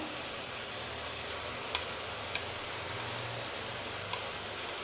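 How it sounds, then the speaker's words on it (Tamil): Ground curry leaves sautéing with onion and tomato in a pan, a soft steady sizzle with a few faint ticks of stirring, fairly quiet and with no talk. "இது கூட அதை அரைச்சி வச்ச கருவேப்பிலையும் போட்டுக்குவோம்."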